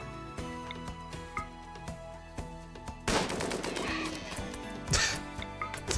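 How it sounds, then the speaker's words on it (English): Machine-gun fire in the video game RimWorld crackles in rapid, repeated bursts. The shots grow denser and louder midway and spike again shortly after. "Machine gun."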